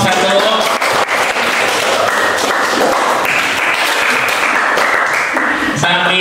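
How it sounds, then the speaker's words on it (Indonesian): Students in a classroom session on automated web server installation with Python clap for number 1, loud continuous applause throughout with voices mixed in near the end. "tepuk tangan buat nomor 1"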